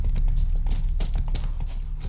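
Horse hooves in the video game Witcher 3 Wild Hunt: a steady, fairly close clip-clop of trotting hooves over a low droning game background, with no voices.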